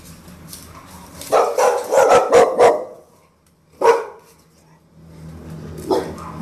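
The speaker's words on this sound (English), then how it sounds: "they bark pretty viciously" Dogs locked up at a temple in Chiang Mai bark viciously and close by, with a burst of several harsh barks, a pause, one loud bark, then quieter barking and whimpers.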